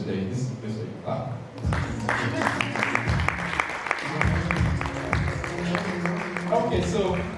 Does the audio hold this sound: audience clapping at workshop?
yes